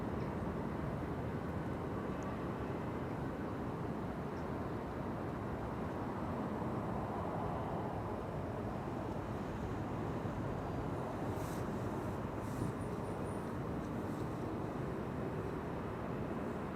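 An airliner departs Schiphol's center runway bound for Warsaw, a steady broadband engine roar filling the whole stretch at constant, distant-to-moderate loudness with wind-like rumble and no voices.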